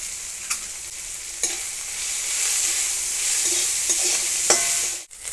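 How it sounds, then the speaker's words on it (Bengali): Spices fry in a pan for tomato dal, giving a steady hiss and sizzle with a few light clinks and scrapes of stirring, close and moderately loud, with no talking. "মশলাটা দিয়ে আমি ভেজে নিয়েছি"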